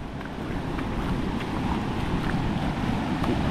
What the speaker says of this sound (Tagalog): Bumabalik rin yung tubig sa dagat